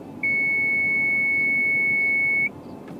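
A single steady electronic beep from a Malibu boat's wedge control holds for about two seconds, clear and close, then cuts off over faint background hum.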